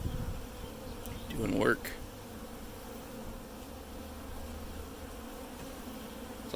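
Honey bees buzzing steadily at a hive during a morning inspection, a dense continuous drone close by, with a brief louder swell as a frame is handled and a short spoken remark over it.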